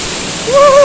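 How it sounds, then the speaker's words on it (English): O Kun De Kun Waterfall pours as a loud, steady broadband rush from close by, with a brief tonal whistle or voice-like squeal cutting in near the end. "Not every day you get to shower in a waterfall, eh?"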